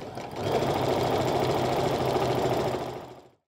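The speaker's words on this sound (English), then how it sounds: "We're going to sew 3/8 of an inch all the way around." A sewing machine runs steadily as it stitches a casing on pajama pants, a loud, close, continuous mechanical whir that starts up quickly and winds down at the end.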